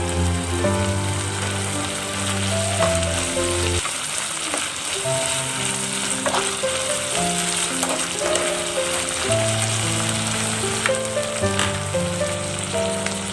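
Tomatoes sizzle loudly in a hot pan while stir-fried with tofu and minced pork, a steady dense crackle with stirring clatter and scraping throughout, no talking.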